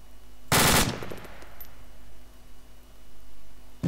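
A machine gun fires one short, loud burst of rapid shots in a military video game, followed by quieter ambient game noise.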